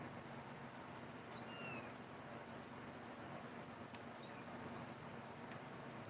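A kitten meows faintly, with a thin rising cry early on and a softer second mew later, both set against a quiet background hiss.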